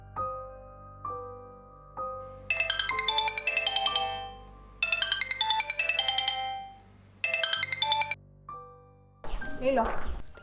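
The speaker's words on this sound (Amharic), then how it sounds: "አንቺ ምንድን ነው ስልክ ማታነሺው?" A mobile phone ringtone plays through several repeated melodic bursts with short gaps between them and goes unanswered, loud and close in an indoor drama scene.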